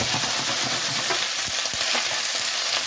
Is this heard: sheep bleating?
no